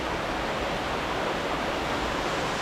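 A waterfall on a rocky Lake District scramble up Pavey Ark roars as a dense, steady rush of falling water, loud and close, with no voices.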